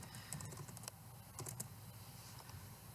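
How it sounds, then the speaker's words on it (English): Light, quiet keystrokes on a computer keyboard, two short clusters of quick taps close by, with faint background hum and no voices. "we can type in a percentage"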